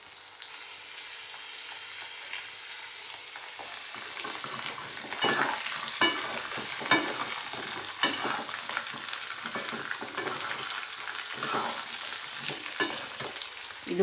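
Beetroot sautéing in a pan for chutney, a steady close sizzle broken by repeated scraping stirs of the spoon, with no voices over it.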